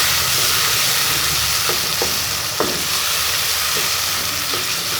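Chopped tomatoes stirred into potato slices frying in a pan, a steady loud sizzle and hiss with a few scraping spoon strokes, no voices.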